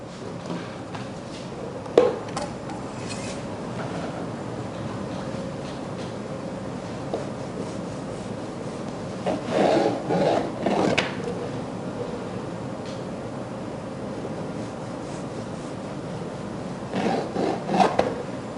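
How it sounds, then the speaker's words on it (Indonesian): A knife trims the edges of a sponge cake, with soft scraping and rasping strokes coming in short close bursts over a quiet background. "Saya trim dulu ya pinggirannya supaya lebih enak nanti motongnya."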